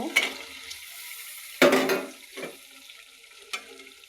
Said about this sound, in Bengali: আলুগুলো আমি সিদ্ধ করে নিয়েছি এখন দিয়ে দেব